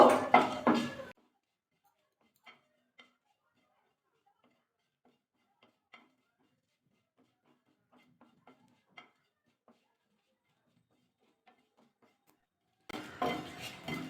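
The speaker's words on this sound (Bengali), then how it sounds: "ভালো করে নাড়াচাড়া করে একটু ভাজা করে নেব" Sparse soft clinks and light scrapes of a utensil stirring spices and dried red chillies roasting in a pan, quiet and intermittent, with brief voices at the start and end.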